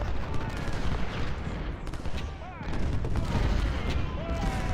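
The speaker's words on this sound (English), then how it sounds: "Run him out of there, artillery." Ultimate General Civil War battle with artillery firing, a dense, loud continuous roll of cannon booms and musket volleys overlapping into a rumbling barrage, with a voice talking over it.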